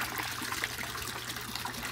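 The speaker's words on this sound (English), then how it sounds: "So it goes from a trickle to just draining like crazy." Water drains steadily through a bell siphon into an aquaponics grow bed holding goldfish and strawberries, a continuous rushing gurgle close by, with no talk.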